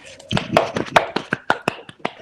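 Pupils in a small English class clap in a loose, uneven run of individual claps, close and fairly loud, with voices murmuring underneath.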